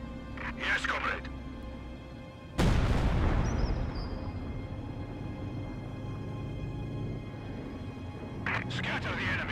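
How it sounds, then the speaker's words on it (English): A light artillery barrage in the Company of Heroes 2 video game, a heavy boom followed by a long fading rumble. Brief radio-style voices come before it and return near the end. "Launch a light artillery barrage."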